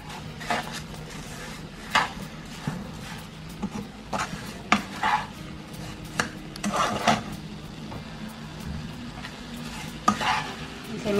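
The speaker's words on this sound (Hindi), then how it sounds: "मिक्स कर लेंगे।" A spoon stirs sugar into a dish cooking over medium heat, soft irregular scraping and clinking against the pan with a faint sizzle underneath, close and quiet.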